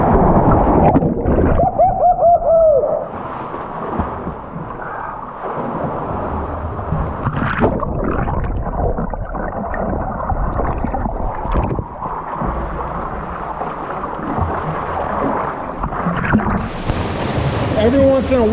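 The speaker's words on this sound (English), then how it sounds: "Every once in a while the swells kick up in here and it makes some nice little blowhole action." Ocean swell surging through a coastal cave blowhole in the Catlins, New Zealand, a loud, continuous roar and wash of churning water and wind with people talking over it.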